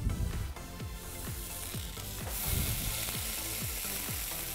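Pork ribs searing in a hot, dry frying pan with no oil, giving a steady close sizzle with repeated crackles and pops throughout.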